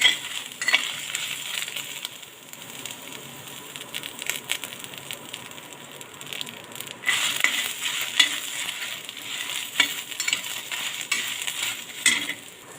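Red chili and garlic roasting in a pan over medium heat, a low steady sizzle with repeated stirring scrapes and small metallic clinks, close by with no voices.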